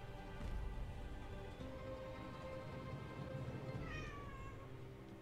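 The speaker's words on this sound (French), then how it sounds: "Il y a mon chat qui fait que miauler." A house cat meows faintly and repeatedly under a dense, loud layer of music and background sound, its rising calls surfacing briefly near the end.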